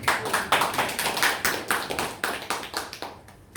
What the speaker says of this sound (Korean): 우리 회장님께서 많이 애쓰셨다는 격려의 박수 드립니다.